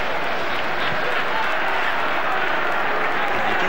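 Blackburn fans in a packed football stadium jeer their former player David May at the 1994 Charity Shield against Manchester United, a steady broad roar of crowd noise with commentary running over it throughout.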